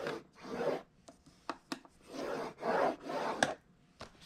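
Cardboard is scored for a box in short rubbing strokes, a run of soft raspy scrapes with sharp clicks between them, close and fairly quiet, with no talking.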